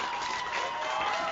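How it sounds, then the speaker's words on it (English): Students on an online call applaud a Pro Football Hall of Famer, a brief, faint, compressed patter of many hands clapping heard through the call. "give a warm round of applause to Pro Football Hall of Famer, Mr. Ron Mix."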